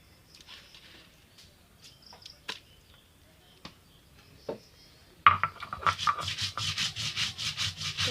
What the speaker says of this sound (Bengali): এখন আমি চালগুলো ভালোভাবে বেটে নেব